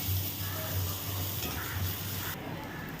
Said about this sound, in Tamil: கடலை பருப்பை ஆட் பண்ண பிறகு மறுபடியும் கொஞ்சம் வசக்கிக்கலாம்